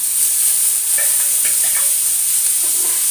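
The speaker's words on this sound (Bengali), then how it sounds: "এবার আমি দিয়ে দেব এই যে পেঁয়াজ আর রসুন বাটা, মানে যেটা একটু ছেঁচে রেখেছিলাম সেইগুলো দিয়ে দিচ্ছি" Onion and garlic paste hitting hot oil in a pan, giving a steady bright sizzle with light stirring scrapes, close and continuous, with no voices.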